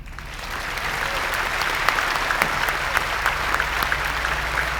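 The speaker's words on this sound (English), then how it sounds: "give a round of applause to the people at NVIDIA that worked on this with us, specifically Ian Cantley." A conference audience at a game developer event in a large hall gives sustained applause, a dense steady wash of many hands clapping with scattered sharper claps, continuous throughout.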